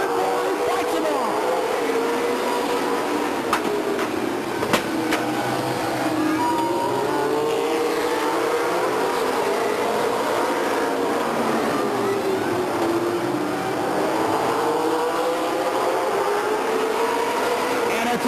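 Race cars run down the backstretch at Stockton 99 Speedway, a steady engine roar with rising and falling pitch as they pass, heard from a distance under continuous crowd and track noise.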